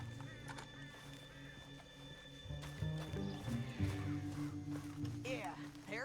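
Horses in Red Dead Redemption 2 clop along with hooves and snort or whinny at moderate distance, under game music and people talking.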